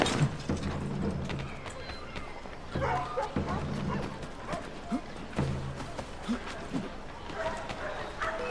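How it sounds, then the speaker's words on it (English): A dog barks repeatedly in Assassin's Creed 3, sharp yips and woofs recurring every second or so amid hoofbeats, footsteps and busy game ambience, with talking mixed in. "Dog didn't do anything wrong."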